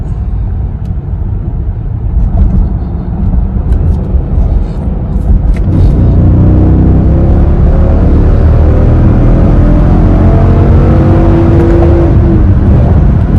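A Dodge Durango R/T in third gear, its engine climbing loudly in a long, continuous rising pull and building in pitch for several seconds, with heavy road and wind roar and no talk.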